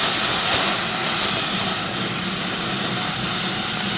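Broth poured into a hot pan hisses and sizzles in a dense, loud, continuous wash of steam that holds steady throughout.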